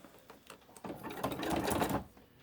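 A sewing machine stitching book-page paper into ruffles: a brief, close burst of fast, rhythmic needle chatter that builds up and then stops after about a second.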